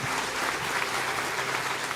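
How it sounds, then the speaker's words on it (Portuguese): Loud, dense clapping from a large church congregation, steady and sustained throughout, with no voices standing out. "Levanta, vai aplaudir, aplauda forte."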